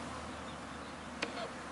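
Honeybees drone steadily around an open hive during a health check, a constant low buzzing hum with a brief sharp click partway through.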